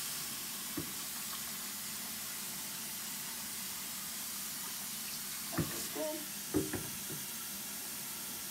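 Water pours steadily from a restroom tap into a wash basin for a bed bath, a constant hiss with a few faint knocks and murmurs of voices underneath.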